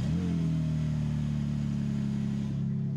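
BMW M2 Competition engine running hard, loud and close, with a sustained rev blip as it starts; a steady engine roar fills the whole stretch, easing slightly toward the end.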